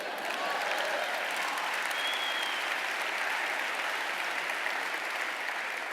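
Keynote audience at the INBOUND 2012 conference applauding, dense sustained clapping from a large crowd filling the room at even loudness throughout, with no voices over it.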